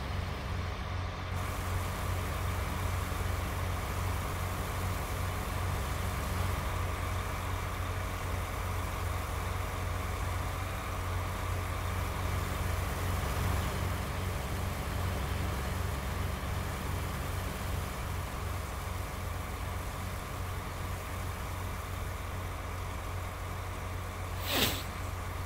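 Small frame tractor engine idling in the Farming Simulator 19 video game, a steady low rumbling drone held evenly throughout, with a brief sharp hiss near the end and no speech.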